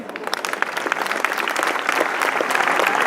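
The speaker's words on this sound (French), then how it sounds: "Vous pouvez les applaudir." An audience at a flower exhibition opening and prize ceremony in Grasse applauds steadily, dense clapping from a crowd building slightly in loudness and continuing throughout without speech.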